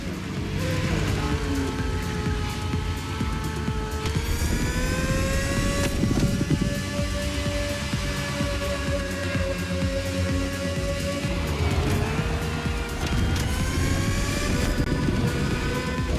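Racing engines from the video game The Crew Motorfest as a plane and a car compete in a Red Bull speed clash: sustained roaring with rising and falling engine pitch that sweeps up through gear changes, loud and continuous.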